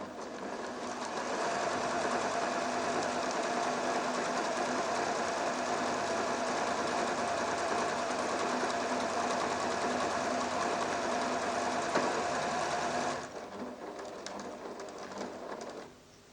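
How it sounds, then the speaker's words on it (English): A 1987 PFAFF creative 1471 sewing machine stitches a buttonhole, a steady fast whirring hum running unbroken for about thirteen seconds before the motor stops and the sound drops away. "Now let's sew this buttonhole."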